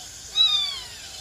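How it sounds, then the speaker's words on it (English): A rusty spotted cat kitten, the smallest wild feline, gives a single thin, high meow that rises and trails off, heard alone and fairly close against quiet background. "The smallest feline in the world, a rusty spotted cat."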